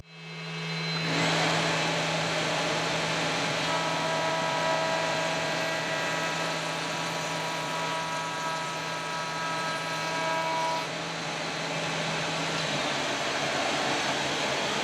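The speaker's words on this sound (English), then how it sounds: "So I'm going to do that on the router table." A router table trims a thin edge off a wooden piece for a hidden glove-box compartment in a 1964 Ford Ranchero. After a brief start, a loud, steady motor whine and cutting roar holds evenly for the rest of the stretch.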